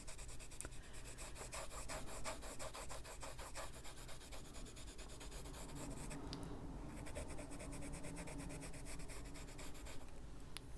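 Colored pencil rubs over paper to blend color on an adult coloring page, a faint, steady scratchy rasp of rapid back-and-forth strokes, close and quiet with no talk.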